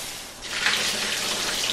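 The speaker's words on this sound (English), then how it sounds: "Drain out the salt water. And give it a rinse with some fresh water" Fresh tap water gushes in a steady hiss over salted eggplant being rinsed in the kitchen, close and loud, swelling slightly partway through and running without pause.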